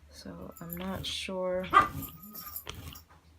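A pet dog barks and yips while playing with a cat indoors, a few short barks and whimpers mixed in with a person talking close by.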